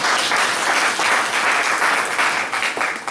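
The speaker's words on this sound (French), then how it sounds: "que vous pouvez applaudir s'il vous plaît" Audience applause at a Paris press conference, a loud, close burst of many hands clapping that stays dense and steady before easing slightly at the end.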